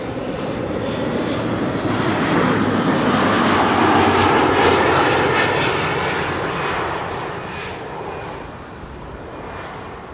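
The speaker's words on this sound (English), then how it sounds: "Next will be KLM flight 1352, arriving from Prague in the Czech Republic." A KLM Embraer 175 airliner arrives at Amsterdam Schiphol, its engine roar swelling to a broad peak midway and then easing off as it passes, loud and sustained with no talk.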